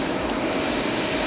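Boeing 767 jet engines spin up at Haneda airport, a dense, steady, roaring drone heard from a distance with no voices.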